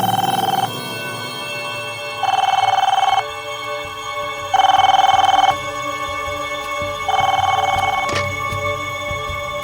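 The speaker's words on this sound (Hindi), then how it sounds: "उस रात जब तुम सो रहे थे तो वहां पे एक फोन आया था।" A telephone rings four times at night in regular, evenly spaced electronic bursts, each about a second long, fairly loud and close against a quiet background.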